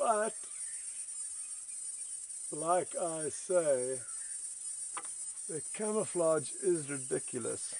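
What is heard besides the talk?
cicadas stridulating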